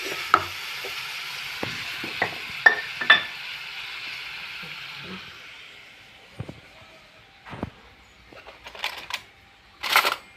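Tomatoes fry in oil with cumin over high heat, giving a steady sizzle that slowly fades, broken by sharp clicks and scrapes of a utensil against the pan.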